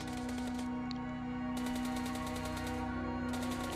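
Gunfire in the video game PUBG Mobile: rapid automatic bursts of shots in a steady rattling rhythm, with a brief pause before a second and third burst, over a constant electronic hum.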